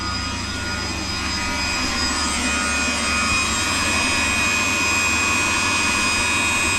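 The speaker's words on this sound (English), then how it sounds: "I think that's the fan for the heater." Heater fan running inside a 1971 KrAZ-255 Soviet military truck, a loud and steady whooshing roar with faint tonal whine, continuous and unchanging, with no talking.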